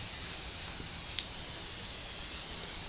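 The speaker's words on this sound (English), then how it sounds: "you need to spray it with some fixative so it stays" Fixative is sprayed from an aerosol can onto a pastel artwork of a fish print, giving a steady, close, continuous hiss for about three seconds with no talk.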